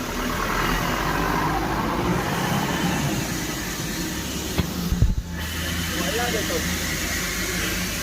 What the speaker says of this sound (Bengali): এগুলো হচ্ছে ইঞ্জিনগুলা।